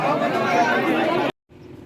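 Dense crowd chatter fills the space at the Maa Sharda temple in Maihar, a loud, steady babble of many voices that cuts off abruptly and returns more softly after a brief silence.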